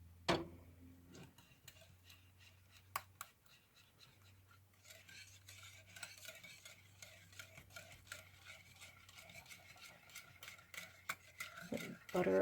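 Melted butter or margarine and maple syrup stirred together in a bowl, with soft, irregular clicking and scraping taps over a low hum, faint and close, and no clear talk.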